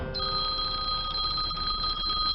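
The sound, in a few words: telephone ringing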